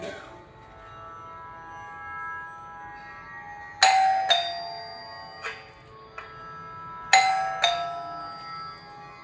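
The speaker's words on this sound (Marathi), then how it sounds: "दारावरची बेल वाजते." Electronic doorbell at a home's front door chiming two-tone ding-dong several times, fairly close and clear over quiet room hum, with pairs of chimes repeating in an irregular rhythm.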